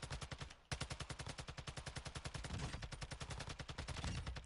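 Rapid automatic gunfire from the video game DMZ, a steady stream of close, loud shots with a brief pause near the start before the burst continues unbroken.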